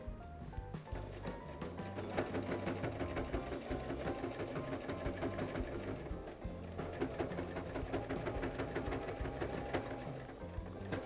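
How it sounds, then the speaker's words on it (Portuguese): A sewing machine stitches the side seam of a fabric cushion on the reverse side, with a fast, steady mechanical whirring and needle clatter that pauses briefly midway before resuming. "Aí faço uma costura aqui também toda lateral, só que do lado do avesso"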